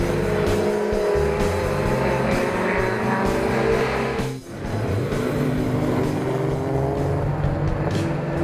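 A GT race car in the HSCC Gold Cup guards race sliding sideways off the track: loud engine revving with tyre squeal, a brief dip as the throttle lifts, then the engine roaring on again.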